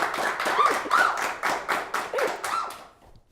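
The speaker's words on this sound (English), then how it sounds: "let's give a round of applause for Ron and Kimberton." Clapping from a small audience on a TV show for hopeful crown candidates, rhythmic and fairly close, with a few distinct claps that taper off into quiet near the end.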